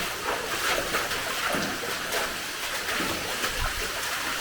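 Broad, steady rush of a waterfall inside an abandoned underground tungsten mine, constant and loud, with splashing texture throughout and no voices.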